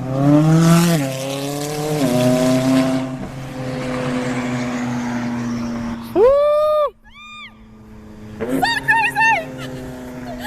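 A tuned McLaren 570S sports car revs and accelerates hard, its engine pitch climbing through sharp rising sweeps with abrupt shifts, loud and close, while voices talk over the engine noise.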